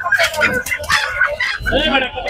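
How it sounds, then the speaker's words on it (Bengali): Desi chickens at the Hemayetpur poultry market in Bangladesh cluck and crow close by in short bursts, mixed with nearby market voices. "এদিকে দেখুন দেশি মুরগি আছে, অনেক সুন্দর সুন্দর দেশি মুরগি"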